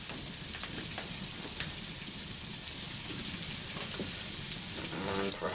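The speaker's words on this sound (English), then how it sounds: "We're just going to get a squirrel in there, brown that off." Squirrel pieces browning in melted butter in a stamped steel fry pan, giving a steady close sizzle with faint crackles and pops throughout, growing slightly busier toward the end.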